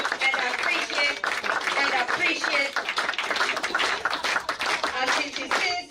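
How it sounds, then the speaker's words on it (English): An audience at a Soroptimist International club charter ceremony in Takoradi claps continuously, a dense, lively round of applause from a nearby crowd with some voices mixed in underneath. "In Kenya, we clap until she sits down."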